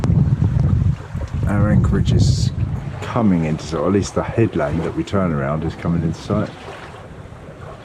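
Sailing yacht running downwind under full sail in open water, wind over the starboard quarter, with steady wind noise and a low rushing wash beneath someone talking almost throughout.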